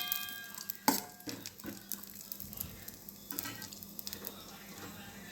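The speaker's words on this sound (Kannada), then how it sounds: "ಈಗ ನಾನು ತುಪ್ಪ ಕರಗಿದ ಮೇಲೆ ಸ್ವಲ್ಪ ಗೋಡಂಬಿ ದ್ರಾಕ್ಷಿ ಹಾಕ್ತಾಯಿದ್ದೇನೆ. ಸ್ವಲ್ಪ ಬ್ರೌನ್ ಕಲರಾಗಿ ಬರುವ ಹಾಗೆ ಫ್ರೈ ಮಾಡಿ" Cashews and raisins frying in melted ghee make a soft, continuous sizzle, close and quiet, with occasional light stirring clinks from the pan.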